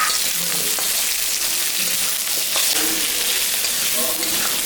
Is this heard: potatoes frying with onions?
yes